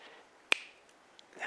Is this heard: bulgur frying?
no